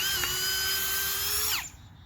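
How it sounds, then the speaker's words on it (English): A power drill bores a pilot hole in a pallet board for a raised garden bed, a steady high whine for about a second and a half that then winds down and stops, loud and close. "I'm going to drill my pilot hole"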